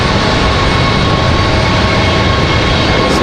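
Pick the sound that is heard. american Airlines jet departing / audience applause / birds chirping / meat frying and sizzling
american Airlines jet departing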